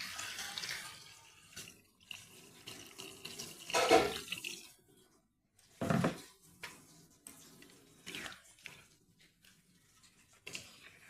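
Water is poured into a pot of chicken curry in short splashing bursts broken by pauses, with faint clinks of the pot, close by and without talk.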